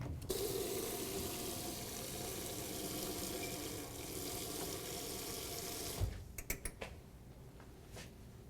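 Kitchen tap running steadily into a sink while a pan or utensil is washed up, a constant close rush of water, followed near the end by a few sharp clatters as the water stops.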